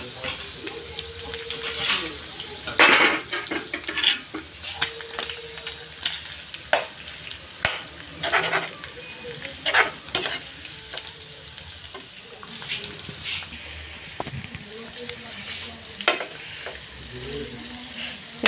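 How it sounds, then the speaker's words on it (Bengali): Onions frying in a pan on a home stove, a continuous crackling sizzle broken by repeated scraping stirs of a utensil, close and fairly loud with a voice speaking at times. "পেঁয়াজগুলো আমি এখন ভেজে নিছি।"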